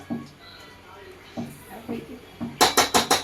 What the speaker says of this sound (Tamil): ஜல்லிக்கண்டி எடுத்து 4 கிண்டு கிண்டுங்க